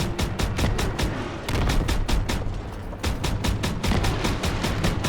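An anti-aircraft gun in Call of Duty WWII fires in rapid, evenly spaced bursts of loud, sharp reports, pausing briefly twice before resuming its relentless rhythm.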